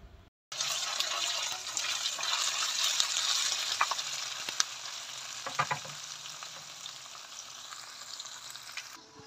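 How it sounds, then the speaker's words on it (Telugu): Ginger garlic paste fries in a pan for chicken pickle, a loud continuous hiss and crackle right up close, punctuated by scattered taps and scrapes of a spoon against the pan, with no one talking. "సేమ్ అదే ప్యాన్లోకి అల్లం వెల్లుల్లి పేస్ట్ వేసుకుని ఫ్రై చేసుకోవాలి పచ్చివాసన పోయే వరకుని"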